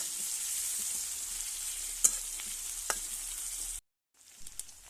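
Chopped onions hit a hot pan of oil after dry fish has been fried, giving a steady hiss with a few sharp crackles, then a sudden drop to silence before a quieter sizzle returns.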